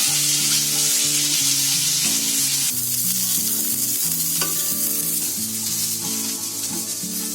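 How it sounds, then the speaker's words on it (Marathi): Onion frying with ginger and garlic for Maharashtrian kat vada makes a strong, continuous close sizzle and crackle, with a steady melodic music track playing beneath it and no talking. "आता कांदा चांगला त्याच्याबरोबर फ्राय करून घ्यायचा"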